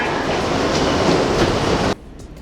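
A New York subway train rolling toward Brooklyn, a loud, close, continuous rumble with rail clatter that cuts off abruptly near the end.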